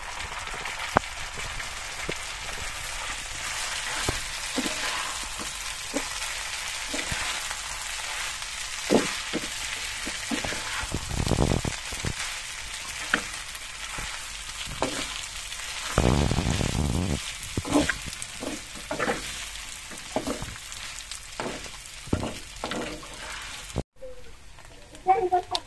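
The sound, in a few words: noodles frying and stirred with onion and chilli in pan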